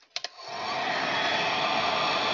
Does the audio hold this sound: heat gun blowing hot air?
yes